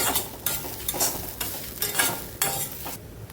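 Grated coconut roasting and being stirred in a pan, a steady dry sizzle broken by repeated scraping strokes of the spoon, close and continuous with no talk.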